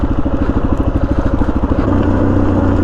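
A KTM 790 Adventure motorcycle rides ATV trails, its engine loud and close with a rapid throbbing pulse that smooths into a steadier, stronger roar near the end.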